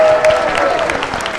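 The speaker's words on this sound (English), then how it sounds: "Big round of applause." A live studio audience in Manchester claps and cheers in a short, loud burst, a crowded wash of clapping with a faint background tone and some voices mixed in.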